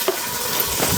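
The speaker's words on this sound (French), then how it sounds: "je vais brasser ça un peu." Onions and garlic stirred in a pot, a brief moment of continuous close sizzling with a faint scrape near the start.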